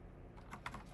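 Keystrokes tap on a computer keyboard during a coding session, a few quick close clicks over a faint steady hum.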